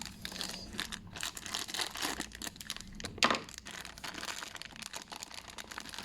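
Crinkling, crumpling sealed plastic toy packaging being cut open, a busy run of close crackles and rustles with one sharper tearing burst near the middle.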